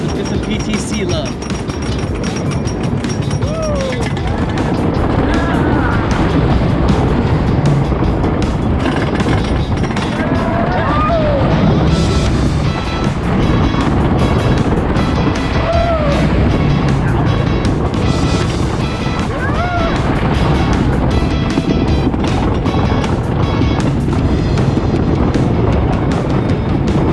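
Comet, a wooden roller coaster at Hersheypark, roars steadily throughout with a loud rumbling rush of wind and track noise, faint screams rising now and then across the ride.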